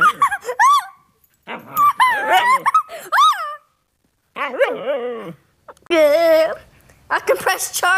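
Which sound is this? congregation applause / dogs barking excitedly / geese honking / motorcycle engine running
dogs barking excitedly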